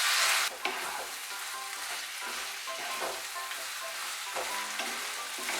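Eggplant, fish head and green chillies fry together for a traditional Bengali ghonto, a close, steady sizzle with repeated stirring and scraping in the pan, and no talking.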